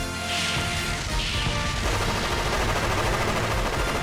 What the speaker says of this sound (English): Okay, grenade launcher makes sense.